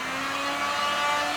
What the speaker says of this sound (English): Final step, just go back over with the heat gun.